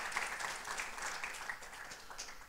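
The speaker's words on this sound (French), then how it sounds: "Est-ce qu'on peut applaudir notre Dieu qui a béni cette jeunesse?" A church congregation applauds together, a soft, even wash of many hands clapping that sounds distant and low in level, continuing steadily for a couple of seconds.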